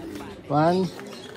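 Pigeons in a loft coo once, a short, near, rolling coo lasting about half a second that stands out above faint background noise.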